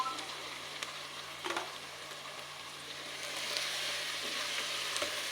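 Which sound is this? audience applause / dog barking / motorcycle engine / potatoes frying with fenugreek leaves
potatoes frying with fenugreek leaves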